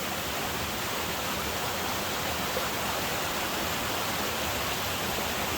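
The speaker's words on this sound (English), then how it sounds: "So this waterfall diverts into two, the one we've just passed and this one." A waterfall splitting into two channels beside the Llyn Idwal trail in Snowdonia roars in a loud, steady, unbroken rush of water, with no other sounds over it.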